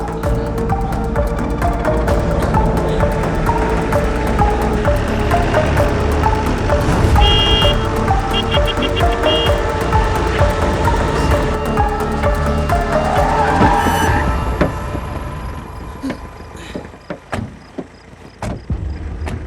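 A car engine runs close by and then rolls up and stops, with a door or window mechanism briefly whirring before the motor noise drops away and scattered clicks and knocks follow.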